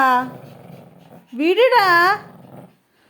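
A pet dog growls while tugging a cloth mat, two close bursts of throaty growling, the second louder and rising into a whiny snarl, then quiet.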